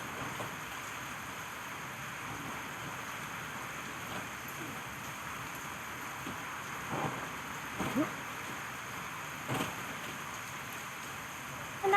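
Heavy rain falls steadily in the video game Dragon's Dogma 2, a continuous hiss with a few soft thuds and faint rumbles rising briefly above it, steady throughout the clip.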